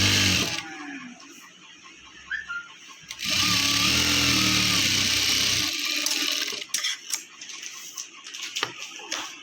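A sewing machine runs in short bursts while stitching the band of a blouse, with a longer continuous whir in the middle between quieter handling noises and rustling fabric.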